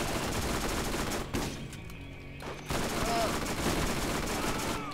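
Shotgun fire in Borderlands, rapid loud blasts of gunfire in clusters with a brief lull midway, a player talking over the shooting.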